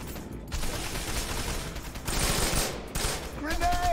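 Rapid submachine-gun bursts crackle in the Wanted: Dead video game, sustained automatic fire in loud stretches with brief gaps, mixed with game noise.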